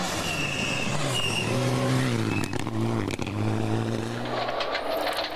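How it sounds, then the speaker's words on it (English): Rally car on a slippery forest stage heard from on board, engine rising and falling through gear changes with brief sharp knocks from the surface, steady and close. "On board in Freddie Milne's car"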